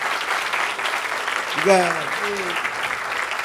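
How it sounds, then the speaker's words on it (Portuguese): An audience claps steadily for a jazz musician at a master class, a continuous close wash of applause while someone briefly speaks a word of thanks over it. "Aplausos para ele aí."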